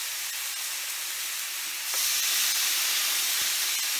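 Marinated Korean beef short ribs (galbi) sizzle loudly on a hot grill, a dense continuous hiss that swells stronger about halfway through, with faint pops underneath and no talking.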